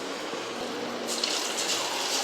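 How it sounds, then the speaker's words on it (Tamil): Potato sticks dropping into hot oil on a medium flame, starting as a steady low background and swelling halfway through into a loud, continuous hissing sizzle as the oil bubbles around them. "சூடான ஆயிலில் நம்ம மிக்ஸ் பண்ணி வச்சுருந்த உருளைக்கிழங்கை ஆட் பண்ணிக்கலாம்"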